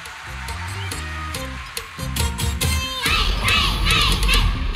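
At a parish youth festival night of song and performance, music plays before a crowd breaks into loud cheering, shouting and clapping that fills the second half.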